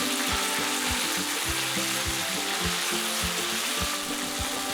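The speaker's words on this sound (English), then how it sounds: "When the oil is very hot, as soon as it starts to smoke, put the marinated beef" Marinated beef sears in smoking-hot oil in a wok with a steady, dense sizzle and crackle, punctuated by regular low thumps, continuous and close with no voices.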